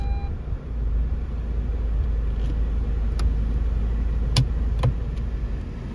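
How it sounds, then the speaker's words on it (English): A Nissan Magnite's engine runs as a steady low rumble close by, with a few brief clicks and taps from inside the car and no talking. "So let's quickly start the vehicle and let's move towards Vasant Kunj."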